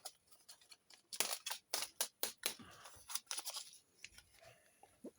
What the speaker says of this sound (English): I haven't got any scissors, so I'm just ripping these packets.